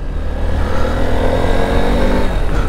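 A Honda X-Blade 160cc motorcycle accelerating on the road, its engine note loud and close with a continuous rising drone and wind rush, no talking.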